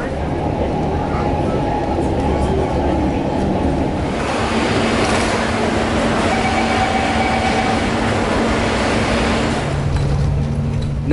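A Singapore MRT train on the north-south line runs toward Woodlands, giving a steady, loud interior rumble with wheel and track noise throughout and faint tonal motor whines shifting midway.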